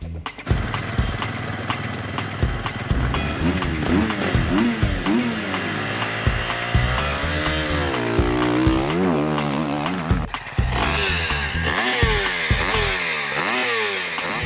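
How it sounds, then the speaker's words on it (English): Enduro motorcycle engine, a big bike likely GASGAS or KTM, at an EnduroGP race in Spain, revving loudly and close with rising and falling pitch sweeps and sharp throttle blips, no talk. "That's a big bike, so I think Verona with GASGAS"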